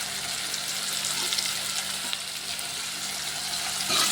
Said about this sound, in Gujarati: અને એને મિક્સ કરી દેવાનું આપણે હળદર અને મીઠું સરસ રીતે.